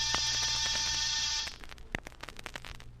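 An apartment door buzzer, a radio-drama sound effect, gives one steady electric buzz for about a second and a half, then cuts off into faint room noise and small knocks.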